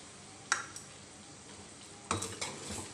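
A spoon scrapes and knocks against a pan of chicken white karahi cooking over medium-low heat, with a single clink, then a few quick scraping strokes over a quiet background.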